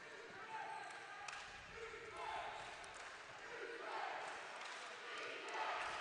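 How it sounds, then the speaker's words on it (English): Arena crowd at a men's QBL basketball game in Logan, a steady wall of cheering and shouting that swells and rolls throughout, with a commentator's voice running over it. "Crowd getting into this one."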